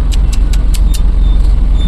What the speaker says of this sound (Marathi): साहब, काय हे ट्रॅफिक,